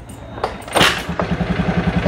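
A motorcycle engine is started close by. A short whir and clunk lead into a quick catch, then a steady run of rhythmic idle pulses.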